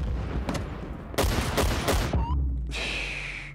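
In the online shooter Battlefield 1943, heavy artillery and gunfire burst in quick succession, loud and close, followed by a lingering high whine after the blasts.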